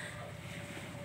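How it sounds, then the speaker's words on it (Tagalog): A small fishing boat comes in across the sea at night. Its motor hums steadily beneath wind and water noise for a short stretch, with no voices. "Ayan, tunog ng bangka."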